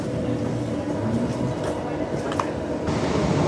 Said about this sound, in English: the last platform 6 train just left